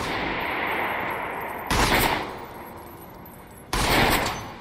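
Enemy gunfire in the video game Trepang 2 comes as two loud, sharp bursts about two seconds apart over a steady background of game ambience.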